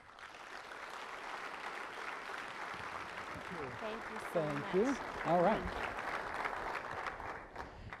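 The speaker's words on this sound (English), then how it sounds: "let's give him a big round of applause" Audience applause fills a conference hall at SXSW Convergence 2016 as a CNN moderator is brought out for an NBA talk, a steady wash of clapping that swells briefly while someone speaks over it.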